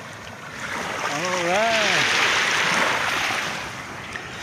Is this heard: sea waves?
yes